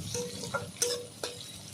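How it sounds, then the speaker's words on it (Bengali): Potatoes cut into long strips sauté in a hot pan with a soft, low sizzle, broken by a few brief stirring clatters as they are turned for an amodi fish charchari. "আলুটা একটু হালকা করে আমি কষিয়ে নেব প্রথমে"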